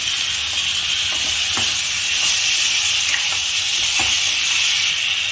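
Capsicum and potato sabzi tossed with spices in a pan gives a steady hissing sizzle, broken by a few soft scraping strokes of the spoon, close and with no voices.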